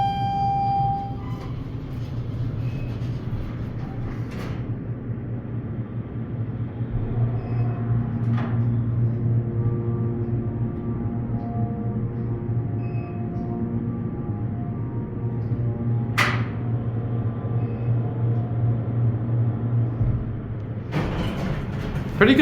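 An MEI hydraulic elevator at the MGM Grand monorail station in Las Vegas runs its motor with a constant low hum and faint whine. A few scattered clicks and knocks sound over it.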